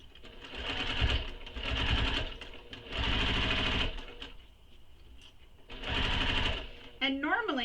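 A sewing machine stitches a handbag in several loud, close bursts of rapid mechanical whirring separated by short pauses, and a voice speaks near the end.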